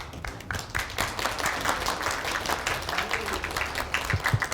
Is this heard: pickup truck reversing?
no